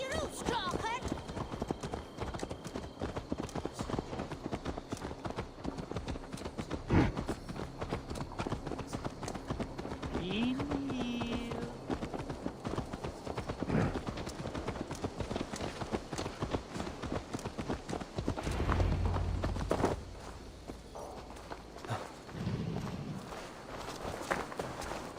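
Horse hooves clip-clop steadily on the ground in the Viking-era game Assassin's Creed Valhalla, a walking gait heard throughout at moderate volume beneath spoken dialogue.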